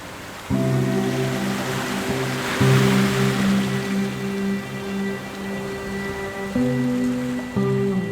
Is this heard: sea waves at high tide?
yes